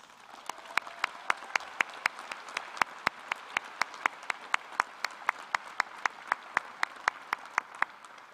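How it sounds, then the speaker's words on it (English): A graduation ceremony crowd applauds faculty and staff, a steady wash of many hands clapping with sharp individual claps popping out at a regular pace, sustained for several seconds without speech. "Please join me in a huge round of applause for our faculty and staff's commitment to student"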